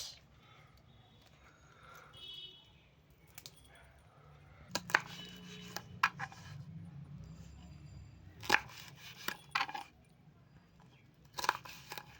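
A knife chopping green beans on a cutting board: sharp, irregular knocks and taps, sparse at first and then in quick clusters, close and fairly crisp over a quiet background.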